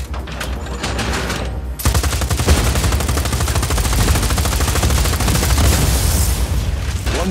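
Sustained rapid gunfire in the Just Cause 4 video game as a player shoots at a generator, a dense continuous burst of loud shots with booming low end, building after a brief opening volley.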